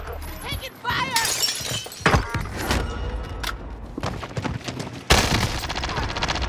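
Video game gunfire bursts and impacts crackling in rapid volleys, loud and close, mixed with shattering hits and voices talking.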